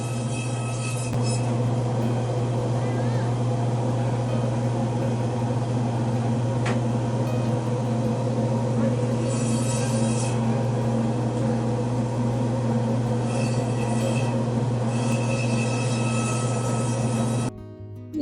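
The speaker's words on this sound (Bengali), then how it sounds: "কি ভালোভাবে ওরা মেশিনের সাহায্যে কেটে দিচ্ছে।" At a fish counter in America, a machine cuts frozen fish with a constant loud mechanical hum and whir, broken by a few brief higher whining bursts before it shuts off at the end.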